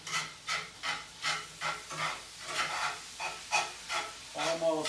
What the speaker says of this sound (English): Chopped meat is browning.